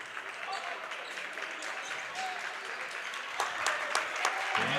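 Spectators at a high school boys basketball game applaud and cheer from the stands, a steady wash of clapping and crowd noise that swells louder near the end, with a voice talking over it.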